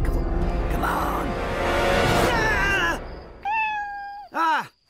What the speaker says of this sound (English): Oh, Kitty! I can hear you under there, you little rascal.